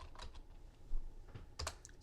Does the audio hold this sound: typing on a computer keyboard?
yes